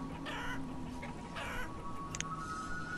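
Chickens cluck in the village-building game Banished, a soft fowl clucking over a steady bed of game ambience, with a brief brighter chirp near the end and no voices.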